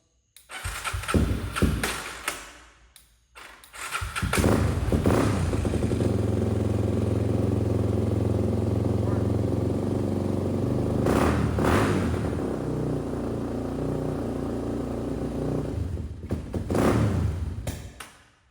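A Yamaha TTR 250 dirt bike, just back together after a carburetor reassembly and with the choke on, cranks and fires up, then idles and revs roughly for several seconds before dying away. Loud and close, with no talking.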